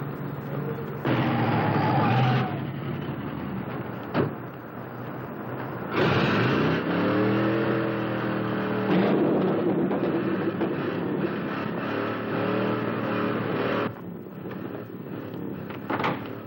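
Hot rod car from a 1950s film, a loud, rough engine roar that surges and revs in several sustained bursts with a brief break, the tone rising and falling as it accelerates.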